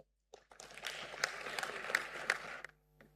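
Thin, sparse applause from the audience at a national safe motherhood conference session after a closing address, rising out of silence, patting along for about two seconds with a few sharper claps, then fading away.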